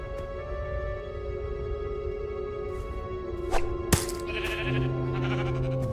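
Sheep bleating in the video game Minecraft Story Mode, a couple of short bleats rising over steady game music and ambience, with a sharp click near the middle.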